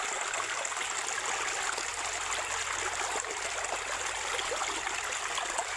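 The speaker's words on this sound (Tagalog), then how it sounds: "Tapos lagyan natin ng tubig." Water being poured into a shallow container, a steady continuous trickling and splashing stream at moderate level with no voices.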